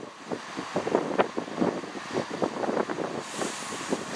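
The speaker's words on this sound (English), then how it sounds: "The wind's kicking in again." Gusting wind buffets a microphone at a railway station platform, producing irregular low thumps and rumbling bursts that come and go over a few seconds.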